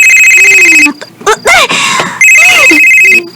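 A phone rings loudly with an electronic trilling ringtone for an incoming call, in bursts broken by a person talking and exclaiming in between.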